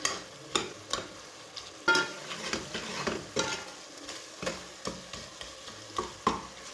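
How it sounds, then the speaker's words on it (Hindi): Spices and garlic for a mutton masala sizzle and crackle in a hot pan while a spoon scrapes and stirs in regular strokes, close and clear, with no talking. "सब मसालों को 1 मिनट तक भून लेंगे।"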